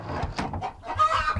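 Penned-up farm chickens cluck in a quick run of close, chattering calls with no talk over them.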